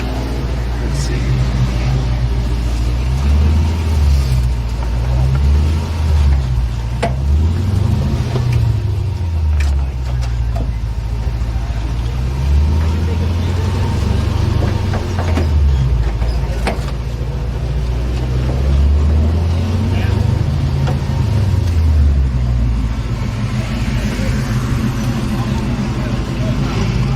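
A supercharged 3UZ V8 in a Toyota Stout cruising along, its low engine note rising and falling in gentle swells as the revs change, with people talking over it.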